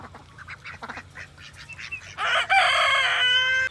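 Ducks quack among chickens and a crowing rooster in a farmyard beside a running tubewell, rough calls close by that build into a louder, dense burst of fowl noise toward the end.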